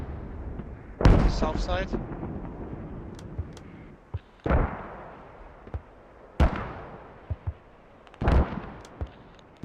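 Distant mortar impacts in the video game Squad during a tournament match, several booming blasts spread across the moment with irregular spacing, heard under a commentator's voice.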